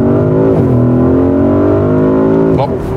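A Porsche Cayenne Turbo Coupé V8 accelerating hard in sports mode from 40 to 100 km/h, its loud exhaust droning and climbing in pitch, with brief dips at gear changes and the engine close and dominant throughout.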